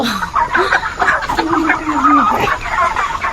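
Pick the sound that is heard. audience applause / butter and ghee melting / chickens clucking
chickens clucking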